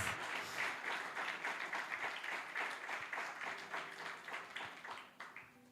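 A church congregation applauds in a dense, steady wash of clapping that pulses slightly in waves and stays moderately loud for the whole stretch, with a faint voice briefly audible underneath.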